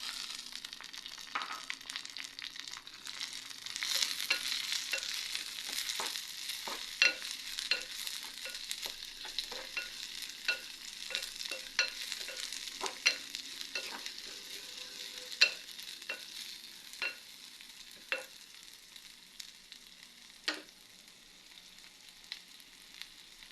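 Onions frying with ginger and garlic for a mango curry, a soft steady sizzle with scattered scraping clicks of a spoon stirring the pan, fairly quiet and close, no talk.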